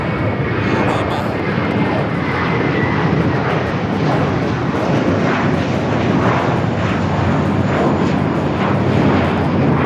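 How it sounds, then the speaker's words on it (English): Emirates airliner taxiing at LAX, turning onto a taxiway: a steady, loud broadband jet engine roar that holds for the whole stretch without a break, with voices talking faintly in the background. "Emirates now making that left-hand turn on to taxiway Lima"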